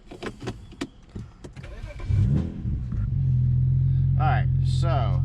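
A BMW engine is cranked with the key and catches, settling into a steady close idle after a few seconds of clicks, handling noise and brief speech, with a short electronic chime near the end.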